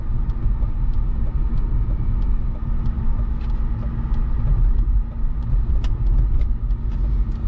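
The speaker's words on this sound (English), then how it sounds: "this is the bulletproof inline six. No turbos, no anything." A 1999 BMW 323i's unturbocharged inline-six engine runs steadily at idle, a continuous low rumble with a smooth hum close by and no speech.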